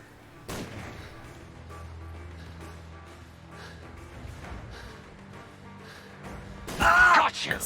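Gunfire in Sherlock Holmes: The Devil's Daughter, a few sharp shots scattered over a low background, closing with a louder burst of fire, with someone talking throughout.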